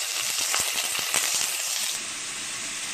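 Onion frying in hot oil in a home kitchen pan, with a steady, close, dense sizzling hiss and crackle, briefly punctuated by sharper pops before settling into an even fry.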